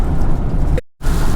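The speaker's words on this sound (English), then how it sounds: "It's raining, baby!" Heavy rain pouring at a lake, a loud steady broadband hiss that cuts out briefly to silence midway and then resumes just as strongly.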